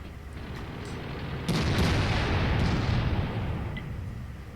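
A tank shell strikes an IS-7 heavy tank in World of Tanks, a sudden heavy boom that bursts in at mid-clip and rolls into a sustained rumbling roar before slowly easing off, with no voices.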